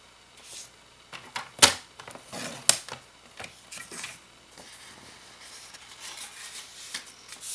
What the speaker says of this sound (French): Et on marque le pli.